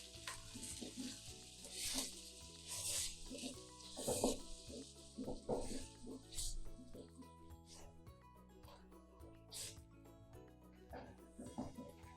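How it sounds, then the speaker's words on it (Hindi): Ginger and garlic paste with onion frying in a pan until light brown, a sustained sizzle broken by repeated stirring and scraping strokes at an uneven rhythm, moderately close, with a person talking over it. "यहाँ पे हम इसे अच्छे से भून लेंगे, ताकि ये अदरक लहसुन का जो फ्लेवर है ना वो आ जाए"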